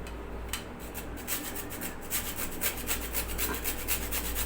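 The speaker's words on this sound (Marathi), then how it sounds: "आणि सोबतच मी यात आता जायफळ किसून घेते" Nutmeg is grated into a jaggery sweet mixture, giving quiet, repeated scraping strokes in a steady rhythm, close up and with no voices.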